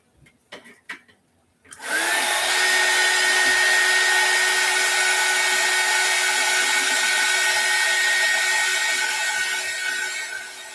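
A heat gun blows on candle wax in an apothecary jar, starting abruptly after a few faint clicks and then roaring steadily and loudly for about nine seconds before easing slightly at the end.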